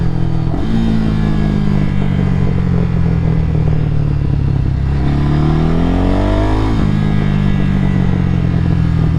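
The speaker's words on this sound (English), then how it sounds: "They're going to pop and bang," Exhaust note of a 2024 Ducati Scrambler motorcycle, loud and close with no talking: a sustained engine drone falls as the rider shifts down, rises in pitch through a rev, then drops back. Distinct popping and banging cannot be picked out.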